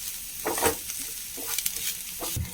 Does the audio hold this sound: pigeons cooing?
no